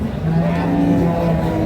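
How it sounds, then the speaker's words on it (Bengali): A three-month-old local calf moos, or its four-year-old cow mother does, at a Bangladeshi cattle market. The low, sustained lowing calls run steadily through the clip over a busy market background. "3 মাস বয়স বাছুর, দেশি বাছুর"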